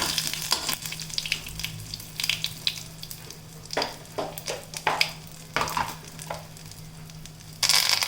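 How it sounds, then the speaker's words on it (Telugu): Spices tempering in hot oil for Madras sambar sizzle close by, broken by several sharp bursts of stirring and scraping, ending in a louder spit of oil. "గ్యాస్ పై మీదే కొట్టి తిరగ మాత్రం వేసుకున్నానండి"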